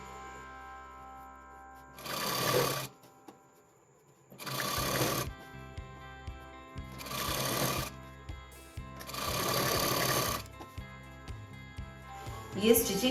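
Sewing machine running simple straight stitches on salwar fabric in four separate bursts of a few seconds each, a close rapid mechanical whirr with quiet pauses between runs.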